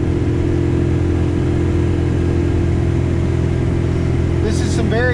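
A John Deere 4066R compact tractor powering a Frontier SB1174 snowblower through compacted drifts gives a loud, steady engine drone with a continuous low rumble and churning, and someone speaks over it near the end.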